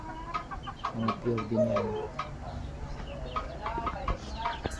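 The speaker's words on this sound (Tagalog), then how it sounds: "tatlo kada isang may pares yung mga brood cock yan" Brood cock roosters and hens cluck in a farm pen, with soft, irregular clucks and short calls under a quiet, steady background while someone talks over them.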